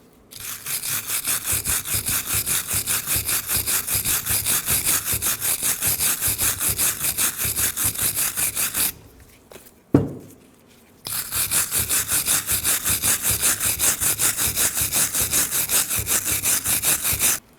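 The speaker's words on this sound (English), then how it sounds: "Using a wire brush, clean these grooves." Wire brush scrubbing the grooves of a rear brake caliper bracket on a 2014-2019 Toyota Highlander, fast rhythmic back-and-forth scraping strokes, close and loud, with a brief pause midway before resuming.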